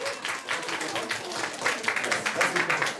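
An audience at a children's talent show applauds a young performer reciting poems: dense, steady clapping from many hands, fairly loud, mixed with a little crowd murmur.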